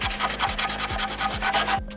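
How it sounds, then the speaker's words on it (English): Sandpaper rubbed over the Norco logo on a bike frame before repainting: steady, close back-and-forth scratchy strokes in a quick regular rhythm, loud and alone, stopping abruptly at the end. "As you can see, I'm sanding over it."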